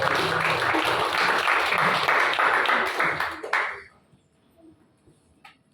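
A church congregation at a Sunday service applauds for God, loud and dense for a few seconds, then quickly fades away, leaving near silence with a faint tap or two.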